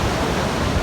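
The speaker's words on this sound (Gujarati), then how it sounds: "એકદમ અતિ ભારે પાણી ફરી વળ્યા છે ચારેય બાજુ" Heavy floodwater in Porbandar rushes with a loud, continuous broadband roar over a brief moment.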